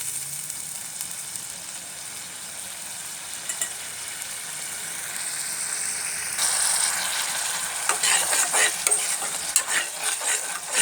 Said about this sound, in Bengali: আর জলটা শুকা পর্যন্ত আমি ওটাকে